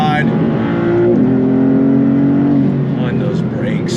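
A Maserati MC20 supercar pulls hard in second gear, its engine holding a loud, steady rising drone up close while a person talks excitedly over it.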